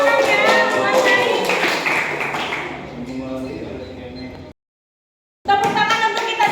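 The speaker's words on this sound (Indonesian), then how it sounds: "Tepuk tangan ya" A group claps their hands at a game tournament, with quick tapping claps mixed with people talking, then a brief silence before the noise resumes.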